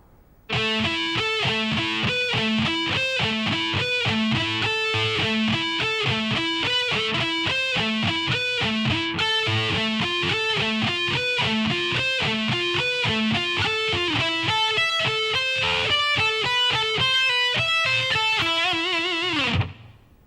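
A slow distorted electric guitar solo lick, a long run of evenly picked, sharply articulated notes with bends and held tones, loud and close with no voices, closing on a sustained note.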